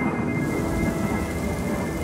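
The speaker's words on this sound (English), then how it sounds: "Gosh darn it, it's raining." Steady, dense rain hisses loudly throughout with a low rumble underneath, like a downpour during a storm.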